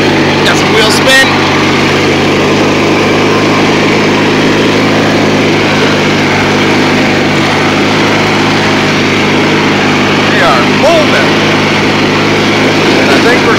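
A small engine at full throttle on a race track screams steadily and loudly throughout, a continuous high buzzing drone with no letup.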